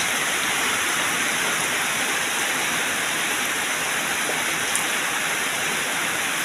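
Moderate rain falls steadily over a pond work site, a dense, even hiss of drops with water rushing and flowing beneath, continuous and loud without a break.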